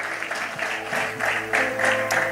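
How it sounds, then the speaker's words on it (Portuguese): A church congregation applauding during a Portuguese-language worship service, rhythmic clapping in pulses with a sustained tonal hum of music or organ underneath. "os que podem, tomem seu assento, aplaudindo a Jesus, porque Ele é bom"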